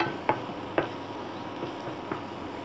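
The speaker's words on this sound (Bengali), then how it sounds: "এইবার আমরা এটাকে একটু নাড়িয়ে নিয়ে" Pasta being stirred in a white sauce with pepper, giving faint, sparse soft clicks and scrapes at irregular intervals over a quiet background.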